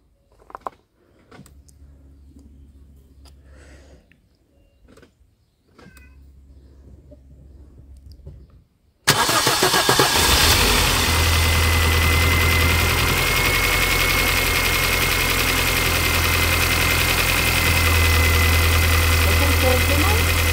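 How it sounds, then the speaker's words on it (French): After brief talk, a MINI R50 engine starts abruptly for its first start and settles into a loud, steady idle that runs on alone. "Allez, premier démarrage, filme le moteur."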